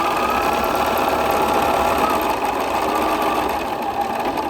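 Sewing machine running steadily to stitch a seam on a quilt block, a close, continuous mechanical whir and rapid needle clatter that holds at an even, loud level throughout with no talk.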